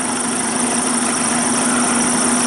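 A Suzuki SV motorcycle engine idles during a carburetor adjustment, a loud, close, steady mechanical drone with an even pulsing hum and no voices.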